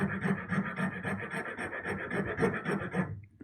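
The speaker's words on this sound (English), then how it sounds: "There I could just hear the saw touch that metal ruler just then." A hand saw rasps through wood in quick, even strokes, briefly touching a metal ruler, close and fairly loud, stopping abruptly near the end.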